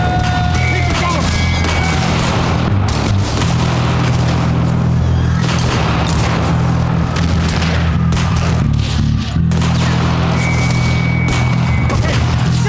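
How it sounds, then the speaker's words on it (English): Sustained gunfire from a squad ordered to keep firing, a dense, continuous barrage of loud booming shots lasting many seconds, close and overwhelming, with no clear speech on top. "open up and keep firing till I call a halt"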